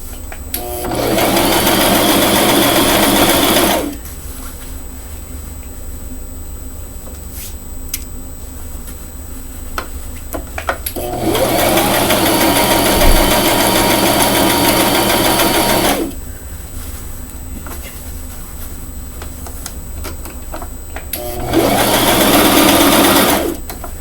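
A sewing machine stitches the bodice of a pink frock to its skirt in three sustained whirring runs, each several seconds long, broken by quiet pauses. The machine is close and loud, with no talking.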